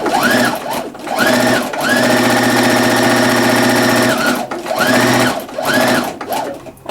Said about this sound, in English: you're going to sew your first row of stitching quite close to the edge of the fabric